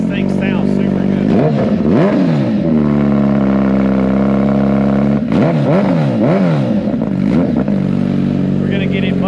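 Up close, a 2022 Suzuki Hayabusa with a freshly installed exhaust gives two bursts of rapid, rising and falling revs. Between them it settles into a loud, even idle.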